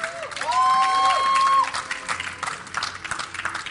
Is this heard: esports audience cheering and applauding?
yes